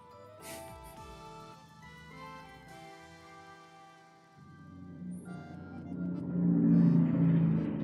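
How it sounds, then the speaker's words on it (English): A heavy truck rumbles past, a broad low roar that swells steadily louder over the final seconds with no voices present. "Oh my god, you hear that truck?"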